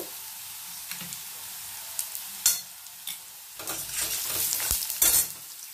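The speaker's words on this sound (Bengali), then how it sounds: "3টে কাঁচা লঙ্কা দিলাম, ভালো করে নাড়িয়ে নেব।" Green chillies with onion frying in a pan while a spatula stirs them, a faint steady sizzle punctuated by several sharp scraping knocks, close and with no talking, for a carrot and papaya masoor dal.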